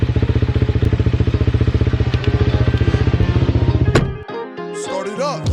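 Dirt bike engine warming up before a hare scramble race, a loud, close, rapid regular idle thumping that runs steadily for about four seconds before cutting off abruptly, leaving faint background noise.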